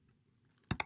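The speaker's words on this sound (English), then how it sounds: "let me type that in here" A few sharp computer keyboard keystrokes clatter close up near the end, three quick loud taps after a quiet stretch.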